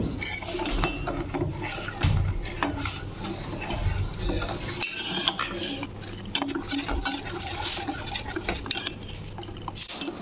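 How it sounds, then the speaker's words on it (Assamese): A spoon scrapes and stirs a thickening laddu mixture in a pan in a continuous run of gritty, clattering strokes, close and fairly loud. "এইখিনি অকমান ডাঠ হোৱালৈকে মানে এনে ধৰণে লৰাই থাকিব লাগিব নহলে লাগি ধৰিব"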